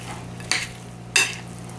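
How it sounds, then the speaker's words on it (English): Chicken spaghetti stirred in a pan, two short scraping swishes of the utensil about half a second apart, close and fairly quiet over a low steady hum. "Stir it up and get it all blended in there."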